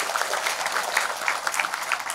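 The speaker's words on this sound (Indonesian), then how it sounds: "tepuk tangan buat semuanya teman-teman ya" An audience at a talk claps, a brief burst of close, scattered hand claps that stays fairly steady and then starts to thin slightly toward the end.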